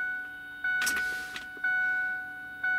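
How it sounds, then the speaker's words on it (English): Car chime beeps sound as an Eonon aftermarket car radio is switched on inside a car, three steady tones stepping in about a second apart over a low constant hum. "Now, you're gonna get bing bing noises from my car."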